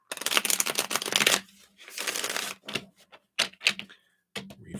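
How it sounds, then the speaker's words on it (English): Tarot cards riffle and slap in quick shuffling bursts with short pauses between, close and fairly quiet, no voices. "I'll shuffle some more here."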